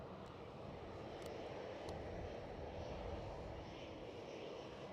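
Distant jet airliner roar at Edinburgh Airport, a broad, steady rumble with no clear rise or fall, faint and continuous in the open air with no voices.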